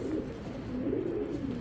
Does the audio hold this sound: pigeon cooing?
yes